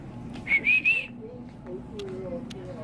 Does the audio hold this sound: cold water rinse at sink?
no